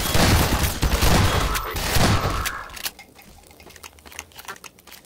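Rapid bursts of gunfire in the video game Half-Life 2 crackle loudly for the first few seconds, then give way to quieter scattered pops and clatter.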